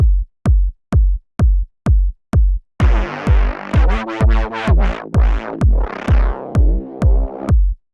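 A Reese bass is played in a trance production under a steady pounding four-on-the-floor kick, its filter cutoff wobbling under an LFO whose rate speeds up and slows down, loud and upfront.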